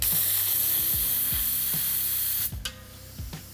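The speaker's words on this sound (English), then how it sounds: "My jam nut is good and tight. I could go a little, tiny bit tighter there." A jam nut being tightened on a tubeless bicycle wheel, with several light mechanical clicks over a steady hiss that cuts off abruptly, followed by a couple more faint taps.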